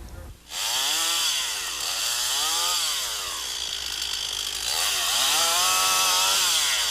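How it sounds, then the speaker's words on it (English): A chainsaw roars continuously nearby, its engine revving up and down in repeated surges with a buzzy, high-pitched rasp. "the hum of a chainsaw became a common noise"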